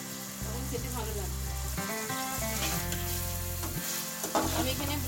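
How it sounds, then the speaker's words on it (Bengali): Prawns fry in a pan for restaurant-style chicken and prawn fried rice, giving a steady loud sizzle with stirring throughout, while a low tonal hum or music runs underneath. "এই প্রন ধর দিয়েছি বলে আমি আর 1 মিনিট মতন একটু জাস্ট ফ্রাই করে নিচ্ছি।"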